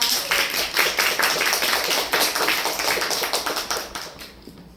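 Theater audience clapping after a curtain-call speech at a stage play, steady dense applause from a full house that swells and then gradually tapers off toward the end.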